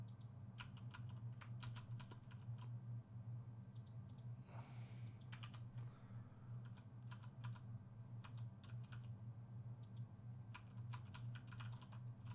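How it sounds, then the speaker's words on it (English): Keys on a computer keyboard are tapped in short clustered bursts of light clicks, faint and close, over a steady low hum, while WASD movement keys are pressed during a game. "Sitting here pressing WASD."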